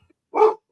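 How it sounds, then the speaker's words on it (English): One short, sharp dog bark rings out alone against silence, close and fairly loud, heard from dogs outside. "Somebody must be outside. The dogs are going wild."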